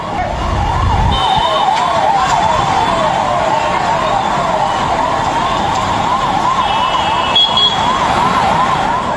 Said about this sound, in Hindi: एम्बुलेंस आप देख रहे हैं जो मेदांता के लिए निकली।